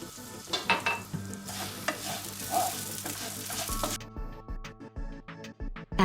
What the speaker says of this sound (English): Add oil to the pan to cook barley noodle and wire noodle.